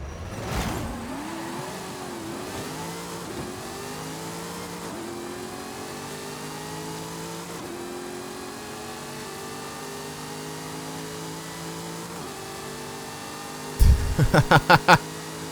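A race car in Forza Horizon 5 accelerates with a sustained, rising engine drone through repeated gear shifts, held loud and steady throughout, with a burst of sharp impacts near the end.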